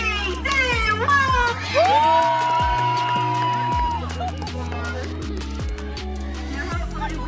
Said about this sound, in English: You can scream as loud as you want, so we're going to try again.